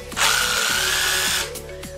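A loud, high-pitched motorized whir from a drill-powered massager starts abruptly, holds steady for over a second, then winds down.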